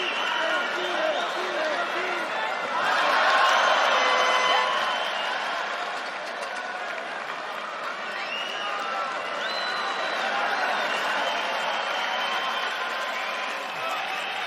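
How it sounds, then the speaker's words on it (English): Crowd cheering and clapping during a combat sports fight, a sustained noisy roar with whoops that swells in the first seconds and then holds steady, with a voice talking over it. "They're going for it, and the crowd are getting behind it."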